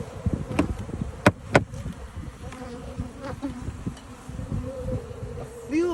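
Honey bees buzzing around a hive during a mite check, a dense close hum with individual bees zipping past, several sharp whining passes standing out over the steady drone.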